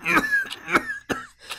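A man's harsh coughing, several short close bursts in quick succession with throat-clearing rasp, in a dramatised audio story.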